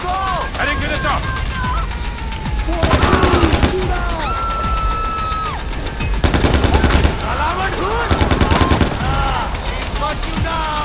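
Automatic gunfire in the video game Far Cry 4, three rapid bursts of about a second each over continuous in-game battle ambience with whistling effects and shouting voices.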